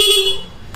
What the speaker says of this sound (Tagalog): meron na pong interrupter relay itong ating stock na busina. Kaya pwede na po natin siyang testingin